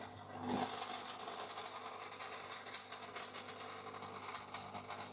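KitchenAid semi-automatic stainless espresso machine purging water through to prime, giving a steady mechanical hum and buzzing pump drone at moderate level, continuous for the whole stretch with no talk.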